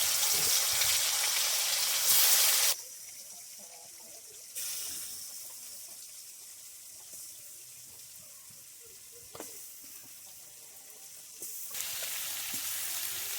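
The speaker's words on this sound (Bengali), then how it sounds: "আবার মাছ দিয়ে দিচ্ছি" Aar fish frying in hot oil in a rural kitchen, a close, steady hiss that swells loud, drops to a quieter sizzle with scattered clinks, then surges again.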